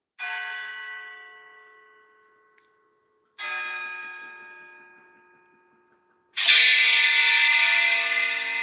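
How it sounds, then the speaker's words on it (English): Three hammer bell strikes in a Roblox game ring out one after another, each a clear metallic tone that slowly fades. The third is louder and brighter, and a faint ticking runs underneath. "Three hammer bells."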